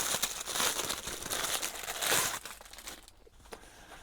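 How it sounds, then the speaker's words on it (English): Plastic packaging around a crochet hook set crinkles and crackles loudly up close as it is opened, a dense run of rustling that fades to scattered softer crinkles toward the end, with no talking. "I'm just going to pop it open. Crinkle alert."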